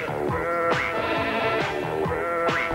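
Sheep bleating during a sheepdog herding trial, a flock calling in overlapping wavering cries, several distinct bleats in close succession over a steady outdoor background.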